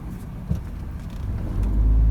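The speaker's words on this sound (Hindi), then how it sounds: "इसका इंजन ऑटोमेटिकली स्टार्ट हो जाएगा" The engine of a Suzuki MR Wagon starts automatically, a low idle rumble that rises and grows louder toward the end, close to the listener.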